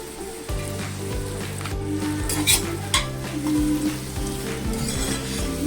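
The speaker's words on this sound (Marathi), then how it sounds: "अर्धा चमचा काश्मीरी लाल मिरची पावडर व हिंग सुद्धा घालायचा आहे आणि परतून घ्यायचे आहेत" Kashmiri chili powder and asafoetida frying in hot oil, a steady sizzle with repeated scraping and stirring of a spoon against the pan, close and continuous.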